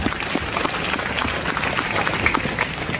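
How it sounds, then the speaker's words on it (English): A crowd claps in a dense, steady patter of applause that holds at an even level throughout, with no voices standing out. "a great round of applause for all the teachers"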